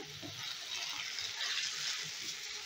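Pumpkin pieces frying in hot oil in a pan give a steady, dense sizzle that holds evenly throughout, close and moderately loud.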